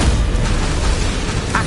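A Confringo spell explosion in the video game Hogwarts Legacy, a loud continuous booming blast with dense low rumble filling the whole moment, no talk over it.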